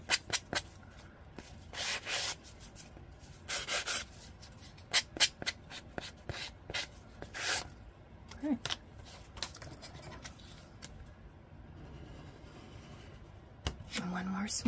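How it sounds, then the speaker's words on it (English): A small sanding block is rubbed in short, quiet scratchy strokes, starting and stopping unevenly and growing sparser as it goes on, with soft speech in the background. "Just going to use my little sanding block here."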